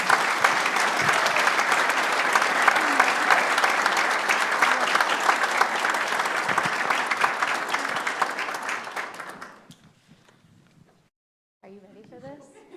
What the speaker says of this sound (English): Let's all give a round of applause for Eileen.